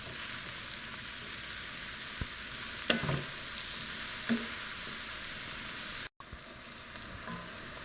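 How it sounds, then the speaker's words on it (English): Onions and mushrooms sizzle in butter in a pan, giving a steady soft frying hiss. A few spoon clicks and stirring scrapes break it up, and the sound drops out briefly near the end. "we've sauteed the onions in butter with the mushrooms for about 5 minutes"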